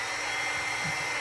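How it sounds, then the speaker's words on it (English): A heat gun blows hot air over a craft envelope journal, producing a steady, loud whooshing drone with no other sounds for its brief run. "Here comes the dryer."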